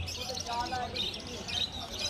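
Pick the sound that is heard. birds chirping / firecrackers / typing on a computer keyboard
birds chirping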